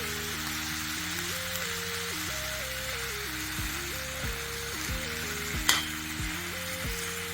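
Potatoes and softened onions fry in a pan with a steady, close sizzle, stirred now and then, under continuous melodic background music, with one sharp clink near the end.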